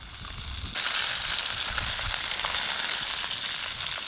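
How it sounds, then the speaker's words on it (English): Oil sizzles and crackles steadily in a pan as fresh fish fries on a beach, a dense hiss that jumps louder after a brief quieter start and holds close and continuous. "Look, it's sizzling."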